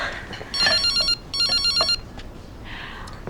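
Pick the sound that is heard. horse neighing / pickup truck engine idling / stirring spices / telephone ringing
telephone ringing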